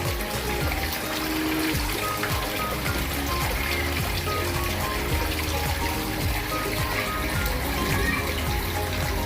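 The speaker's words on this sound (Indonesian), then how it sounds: "Coba kita hidupkan aeratornya ya." A fish pond aerator running steadily outdoors, churning and splashing water in a constant, dense wash of bubbling and gurgling with no pauses.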